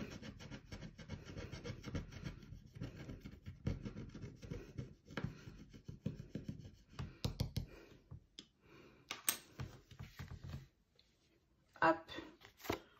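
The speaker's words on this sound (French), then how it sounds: "je vais m'en servir pour gratter juste là" A small scratcher tool scrapes across a card in repeated quick rubbing bursts close up, with someone speaking French between and over the scratching.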